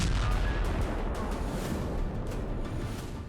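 Israeli bombing and explosions in Gaza heard as a dense, continuous rumbling roar with sharp cracks and bangs scattered through it, loud and unbroken for the whole stretch.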